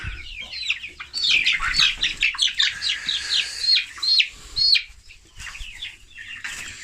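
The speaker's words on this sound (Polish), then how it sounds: "O, bo tu mamy kureczkę" Hens and a rooster cluck and squawk close by in a poultry yard, a busy run of overlapping calls with a brief flutter of wings, easing off toward the end.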